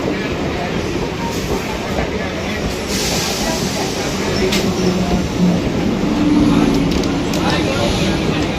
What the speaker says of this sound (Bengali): শিয়ালদা লালগোলা ঢুকছে এটা।